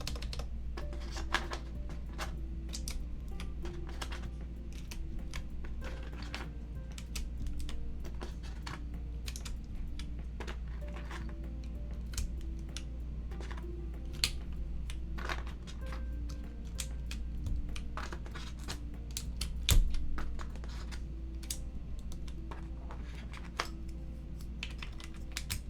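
Fast, continuous typing on a Pangea custom mechanical keyboard produces crisp, close key clicks in a busy, irregular patter over a low steady hum.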